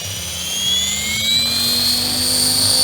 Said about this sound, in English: That's just hold picking up, because the main rotor got below the hold RPM.